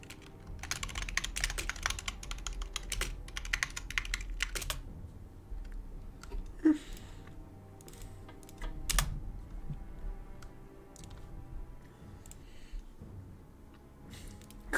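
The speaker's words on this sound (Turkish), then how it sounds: "Klavye ASMR. Her daim." Computer keyboard typing, a rapid stream of close clicking keystrokes in irregular bursts with brief pauses, heard alone throughout.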